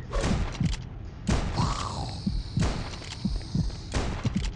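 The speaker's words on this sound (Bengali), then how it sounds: "পাথর দিয়ে কুপাচ্ছি রাজ" Hitting with a stone in a horror video game produces heavy, dull thuds that repeat about every second over a low rumbling game background.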